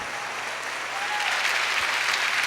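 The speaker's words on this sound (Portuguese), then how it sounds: "Pode aplaudir, é muito bom." Church congregation applauding, a continuous even wash of many hands clapping somewhat distantly, with faint voices underneath.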